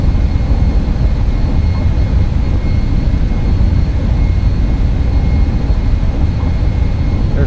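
Loud, steady jet engine roar from an MD-11 accelerating down the runway on its takeoff roll in X-Plane 12, a dense continuous rumble with no pauses or speech.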